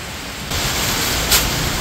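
Rain and wind lashing down during Typhoon Uwan, a broad roaring hiss that jumps louder partway through and gusts briefly toward the end, with no speech.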